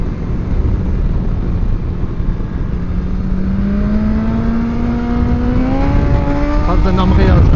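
BMW S1000XR motorcycle accelerating hard through the gears, engine note rising loudly and steadily with shifts near the end, heard close from the rider's position under heavy wind rush.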